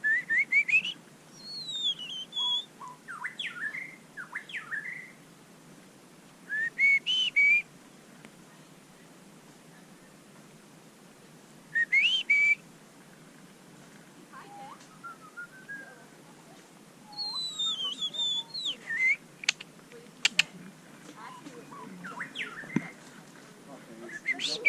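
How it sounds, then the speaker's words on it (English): A bird singing along a forested hiking trail in Hawaii, bursts of clear rising whistles and chirps separated by quiet pauses, moderately distant over a soft background hiss. "I want to see this bird."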